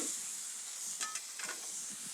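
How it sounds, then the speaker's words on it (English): Steam hisses steadily beneath a dome over cheese melting on a restaurant griddle, a continuous close wash of sizzle with a few brief spurts around the middle. "This steam is gonna help melt that cheese better than any salamander putting it under the broiler."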